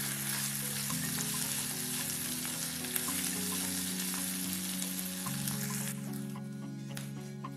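Masala fries in oil with a bright, steady sizzle and crackle, close and even throughout, easing slightly toward the end, with a faint tonal hum underneath.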